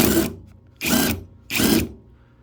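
A DCK brushless impact driver in fastener removal mode fires three short, loud, rattling bursts at a steady rhythm, with brief silences between them and no talk.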